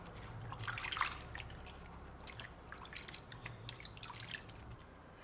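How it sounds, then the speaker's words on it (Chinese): Chayote is washed in clean water with soft, close splashing and dripping, a burst of sloshing early on, then quieter trickles and drips. "我们把佛手瓜放入清水中， 给它清洗干净。"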